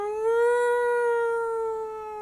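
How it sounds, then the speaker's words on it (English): A siren from approaching pound trucks wails in a steady, sustained tone that rises and falls slightly, heard from a distance with no talking. "of the sirens coming your direction. Oh, sounds like the pound trucks are coming."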